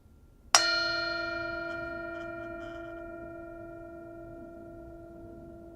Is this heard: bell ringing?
yes